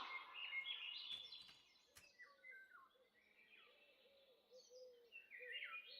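Small birds in the Minecraft video game chirp and trill faintly in short, scattered high-pitched calls, with a couple of brief clicks near the start.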